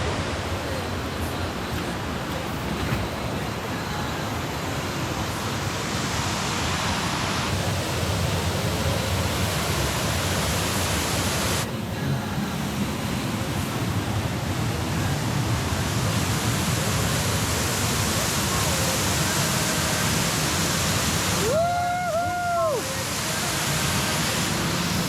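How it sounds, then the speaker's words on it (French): The Cascade des Combes waterfall roars as a dense, constant broadband rush that fills the whole stretch, close and loud, with a brief voice cutting in near the end. "Et là, cette fois-ci, on va voir une cascade,"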